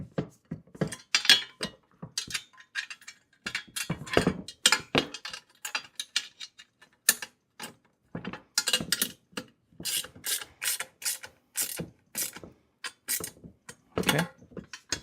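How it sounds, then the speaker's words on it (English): Wrench tightening bolts on a heavy-duty four-wheel garden dump cart: rapid clicking ratchet strokes in uneven bursts, close up, with short pauses between runs and faint metallic rubbing. "Just tighten it down pretty snug."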